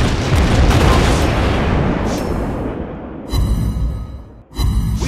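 Heavy booming blasts from torpedo hits in the naval battle game World of Warships Blitz, a loud dense rumble that eases off, then two more sharp bursts return near the end.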